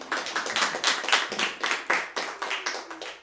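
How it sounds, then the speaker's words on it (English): An audience at a comedy show claps, a run of distinct hand claps in an uneven rhythm, moderately loud and fairly close, with no speech over it. "Clap it up for her."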